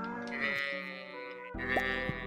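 Sheep bleating in the farming video game Stardew Valley, a clear close bleat set against steady tonal game music, with a second bleat rising near the end.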